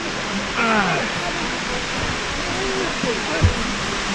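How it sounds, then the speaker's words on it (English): Brekkefossen waterfall in Flåm, Norway roars as a dense, constant wash of broadband noise close by, with a voice talking briefly over it and a faint thump near the end. "Well, that is a big waterfall. Too noisy here."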